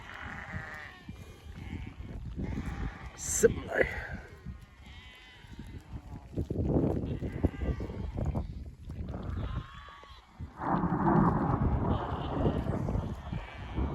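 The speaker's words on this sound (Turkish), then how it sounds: "Gök gürledikçe koyunlar uçuyorlar" Several sheep bleat on and off amid a restless, noisy thunderstorm background, with a brief word spoken partway through.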